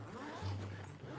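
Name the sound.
zipper on Solgaard luggage being opened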